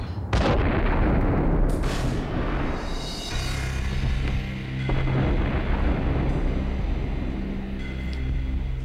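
A grenade explosion in the Max Payne video game: a loud sudden blast followed by a long rumbling decay, with a second burst shortly after over continuous low booming.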